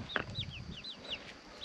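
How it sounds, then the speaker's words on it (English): Baby chickens sitting in the fireplace of a village house in Ramkot, Bandipur, Nepal, give a short run of high, thin peeps and cheeps, quiet and close, with faint low background sounds and no talk. "you have baby chickens here sitting in the fireplace."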